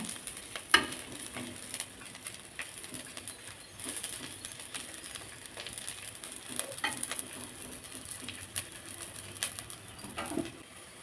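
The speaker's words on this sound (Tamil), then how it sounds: "பூண்டு இந்த எண்ணெயிலேயே நல்லா வறுத்து எடுத்துக்கலாம்" Garlic sizzles and crackles steadily in hot oil while it fries for curry leaf powder, with a few clinks and scrapes from stirring over the frying hiss.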